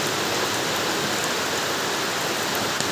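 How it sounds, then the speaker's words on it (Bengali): Heavy rain falls in a loud, even rush of noise, close and unbroken from start to finish, with no speech over it. "পুরাই বৃষ্টি।"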